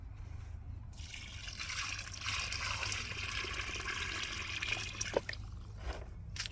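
Seaweed treatment water is poured from a bucket onto the base of plum trees outdoors. A steady splashing gush runs for about four seconds, then tapers off into a few drips against quiet background hiss.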